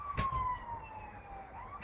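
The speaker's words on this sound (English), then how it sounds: "Ambulance. What else would it be?" An ambulance siren wails with a high, sliding tone that slowly falls and then rises again, loud and fairly close for a brief moment with no voices over it.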